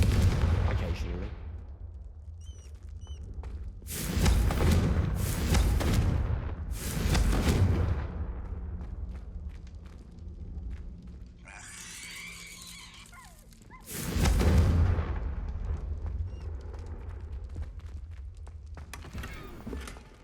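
Confringo fire-spell blasts in Hogwarts Legacy, several loud booming bursts spaced apart, with a crackling magical effect between them and someone talking in the gaps.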